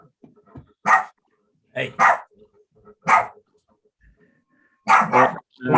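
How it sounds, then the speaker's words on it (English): A dog barks in repeated short bursts at close range, with several loud barks spaced over a few seconds while a person speaks briefly in between. "Not me barking, it's a bloody dog."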